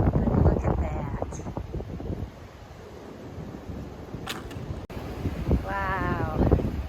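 Gusty wind rushes over the open rock of Tinker Cliffs on the Appalachian Trail, buffeting the microphone in uneven surges, with brief voices in between.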